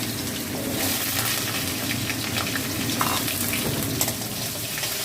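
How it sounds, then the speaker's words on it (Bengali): Potatoes fry in hot oil in a pan already seasoned with bay leaf and cumin, a steady crackling sizzle with occasional sharper pops, close and continuous, with no talking. "আমি আলুগুলো ভেজে নেবো।"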